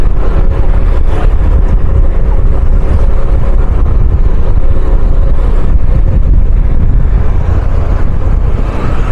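Steady roar of vehicles driving along the Masaka Northern Bypass road in Uganda, a continuous loud wash of engine and tyre noise with no clear pauses or talking.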